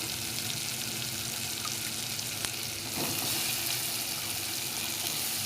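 Chopped eggplant tipped into a hot pan, a steady sizzling hiss that swells abruptly midway as the pieces go in, close with a brief clink beforehand.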